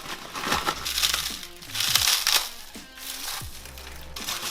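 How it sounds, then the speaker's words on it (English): Pork rinds crushed inside a bag for a keto batter, giving repeated crunchy crackling and crinkling bursts in uneven waves, close and fairly loud, with no talk. "I'm going to go ahead and open up this bag of pork rinds, crush them up"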